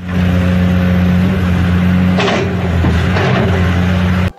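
A faulty hydraulic excavator gives off a loud, steady mechanical drone, a strange noise with a brief harsher whine partway through, continuous until an abrupt cut at the end.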